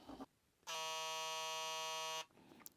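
A Stylecraft Instinct OG hair trimmer switches on and runs with a steady, high-pitched electric buzz for about a second and a half, close and loud, then cuts off abruptly.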